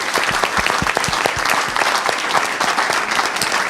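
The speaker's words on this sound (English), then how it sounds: "Give yourselves a big round of applause." A panel-session audience applauds at the close, steady dense clapping from many hands filling the room at full volume throughout.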